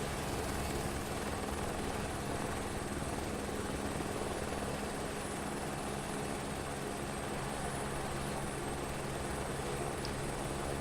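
Steady, unbroken whine and rotor roar of an Airbus helicopter engine in Microsoft Flight Simulator 2024, a constant broadband drone with a high tonal hum on top and no change in level throughout.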